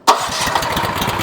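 Small gas engine on a Wolfe Ridge 28C compact commercial log splitter with conveyor catches on a pull and settles into a loud, close, rumbling idle.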